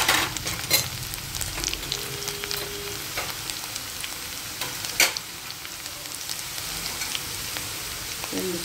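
Onions fry in a pan with a steady, close sizzle, punctuated by occasional scrapes and clinks of stirring.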